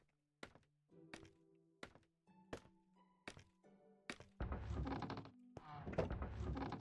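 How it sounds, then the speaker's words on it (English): A giant colossal chest in a video game opens with a series of hollow wooden thunks, each ringing briefly, quickening before a rush of bright shimmering sound swells and holds at the end. "I love the opening sound of the giant colossal chests"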